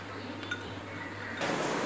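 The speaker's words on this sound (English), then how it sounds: "Now add ice cubes." Ice cubes clink and drop into a glass of homemade jeera-neem summer drink with salt and sugar, a few light chinks early on, then a louder burst of settling and fizzing near the end.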